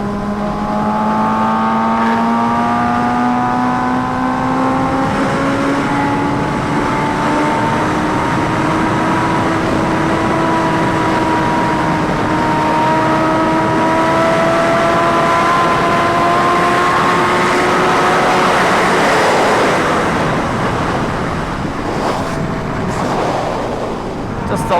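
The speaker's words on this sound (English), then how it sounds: "Just a light little 5th gear pull, and maybe even quarter throttle." A Kawasaki Ninja H2R with a carbon tank makes a light fifth-gear pull at about quarter throttle, its engine tone rising steadily and loud, close and continuous for the full stretch.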